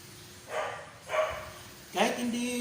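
A dog barks three times, moderately close, with short evenly spaced barks, the last one sharper and higher, against a quiet room background.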